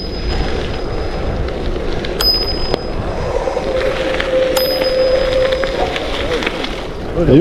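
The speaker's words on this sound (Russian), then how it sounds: "Сейчас посмотрим, с какого раза они услышат колокольчик." Two bright, high bicycle bell rings sound a couple of seconds apart over steady rolling wind and road noise while riding outdoors.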